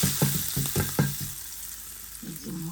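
Fish frying in a little oil in a pan, a busy crackling sizzle with several stirring scrapes at the start, then the sizzle settling into a quieter hiss with a brief low voice at the end.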